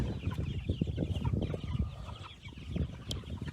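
Silkie chickens clucking together in a farm setting, a busy run of low, overlapping clucks and murmurs close by, with a brief sharper call near the end.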